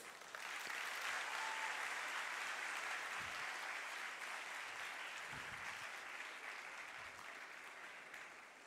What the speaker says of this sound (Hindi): उस आदमी के लिए तालियां बजाइए